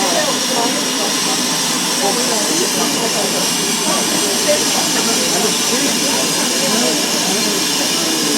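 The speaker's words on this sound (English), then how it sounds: "here's the first train of the day to Tenterton, ready to depart" Loud, steady hiss of escaping steam with rumbling mechanical noise underneath, continuous and close, as a steam locomotive gets under way from Bodiam station on a train to Tenterden; faint voices may mix in.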